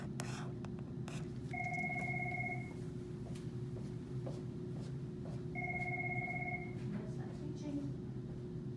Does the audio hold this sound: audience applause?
no